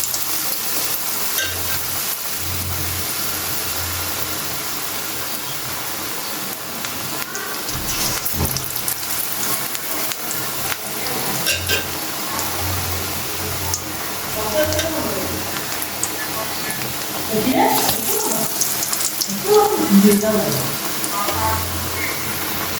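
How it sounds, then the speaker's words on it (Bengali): Eggplant fritters (beguni) sizzle in hot oil with a steady, moderately loud fry that swells toward the end, with occasional clinks and scrapes and some voices in the background. "আর এটাতে এখন আমি বেগুনি দিয়ে দিব।"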